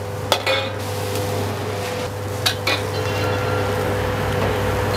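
Pots, pans and utensils clink and scrape while chicken karaage cooks in a busy kitchen, a few sharp metallic knocks standing out over a steady sizzling, humming background.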